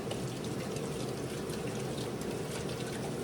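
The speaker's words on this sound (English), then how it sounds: "let me rinse my hands off" Tap water runs steadily over hands being rinsed in a home kitchen while baking an apple pie, a constant close hiss and trickle with no talking.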